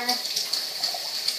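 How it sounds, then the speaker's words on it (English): Water runs steadily from a tap into a sink while rabbit meat is rinsed, a soft close hiss with small splashes throughout. "I'll go ahead and turn on my water,"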